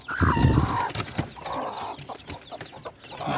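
Chickens cluck close by in a busy farmyard mix, several birds calling over one another with a louder burst at the start.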